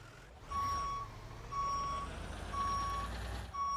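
A fire truck in a video game sounds its reversing alarm, a steady series of evenly spaced high beeps over a low engine rumble, with no one speaking.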